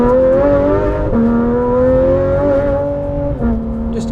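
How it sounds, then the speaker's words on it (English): A car engine revs as the throttle is opened, a steady loud tone rising and falling in pitch over a few seconds, with no voices. "Just open up the throttle on this car just a little bit there"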